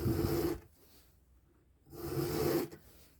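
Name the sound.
round file sharpening chainsaw chain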